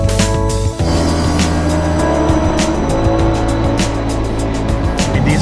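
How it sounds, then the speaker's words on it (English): British GT series race cars at Oulton Park roar loudly nearby, a dense layered engine drone with shifting pitches and sharp bursts as several cars work the track. "These are GT cars from the British series"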